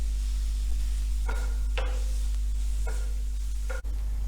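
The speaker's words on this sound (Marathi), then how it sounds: "हे चांगलं पुन्हा परतून कोरडं करायचं आहे" Spinach and paneer mixture with chaat masala sautéed dry in a pan, a steady low sizzle with a few scraping stirs of the spatula, close and alone.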